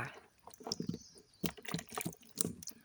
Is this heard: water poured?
yes